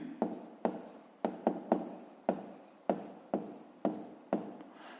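Pen on paper writing out a decimal number, a close series of about ten scratchy strokes with sharp starts and short pauses between them, no voice.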